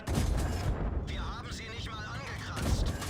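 Tank cannon fire in the online game World of Tanks, a heavy booming blast followed by rumbling battle noise and a whistling sweep, with a voice talking over part of it.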